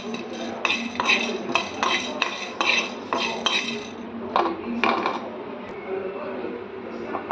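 Whole spices fry on a low flame in a pan while a metal spoon stirs and scrapes, giving repeated sharp clinks and taps over a soft sizzle, with a voice talking at times.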